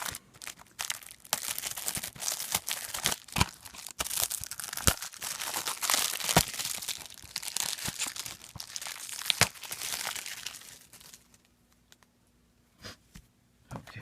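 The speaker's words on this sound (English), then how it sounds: "And so here we go with the plastic. I put a little slice in it." Plastic shrink wrap is sliced and peeled off a Blu-ray case, giving close, crisp crinkling and tearing with scattered sharp clicks for most of the clip, then quieter, sparser handling near the end.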